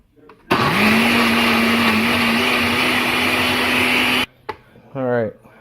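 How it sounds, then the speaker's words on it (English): A blender whirs at full power through a batch of salsa, a loud, steady motor drone lasting several seconds before it cuts off abruptly, followed by brief voices. "And now we are ready to blend it up"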